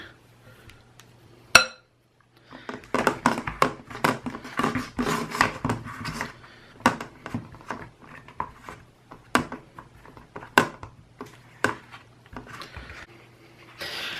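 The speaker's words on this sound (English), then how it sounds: "Mixing's done, so now I'm going to pack it into this ice cube tray." Shower bomb mixture is packed into an ice cube tray, giving a long run of irregular close taps, clicks and scrapes of tools pressing into plastic, with short pauses between bursts.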